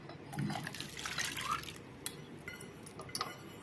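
Water is poured into a pot for sago pudding, two cups of water to one cup of sago, for a royal falooda. A soft, faint splashing and trickling runs for a few seconds, with a small clink near the middle.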